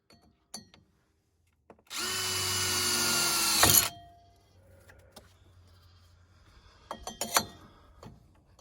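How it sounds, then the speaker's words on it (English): A power drill whirs loudly for about two seconds in a single steady burst while fitting front shocks on an OBS 7.3L Powerstroke Ford F-Series truck, then stops, followed by a few clicks and handling knocks. "mark the spot where I want to drill."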